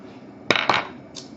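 A Partagas Black Label cigar is nicked with a cutter, giving two quick crisp snips close up, followed by a fainter short click, with no talking.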